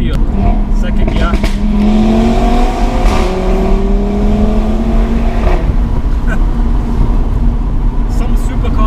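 An Audi RS3 engine pulls hard in second gear, with loud rising engine tones climbing steadily. The pitch dips briefly at shift points, then climbs again, all heard from inside the car.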